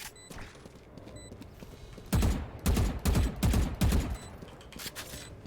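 Gunfire from a Valorant-style tactical shooter match after the spike is planted: a loud burst of five or six heavy rapid shots in quick succession, standing out over a low steady game background with no talking.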